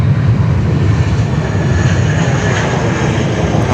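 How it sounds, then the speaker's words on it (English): A Qantas Boeing 787 taxiing at Sydney Airport toward a runway 16 left departure: a loud, steady, broadband jet engine roar with a constant low rumble, heard from nearby without a break and no talk. "we might have our Qantas 3 787 taxiing down Charlie, heading for a 16 left departure to Auckland"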